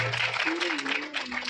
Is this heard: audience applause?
yes